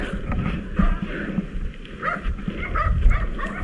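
A dog gives a few short yips and whimpering barks, fairly close, with some background noise.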